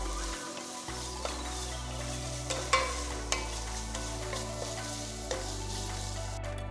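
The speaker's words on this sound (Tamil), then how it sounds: "இதோட 2 சின்ன தக்காளி நறுக்கி போட்டு கிண்டுங்க." Chopped tomatoes frying in a pan for a South Indian chicken soup, a soft steady sizzle with occasional scrape and clink of a spoon stirring, close and alone.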